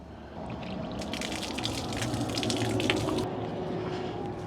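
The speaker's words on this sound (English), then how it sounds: "I also like to run a little water through my hose, just in case there's a spider or something in there." Water runs through a plastic garden hose at a camp beside a van, a soft close trickle that swells into a brighter gush for a couple of seconds and then settles back.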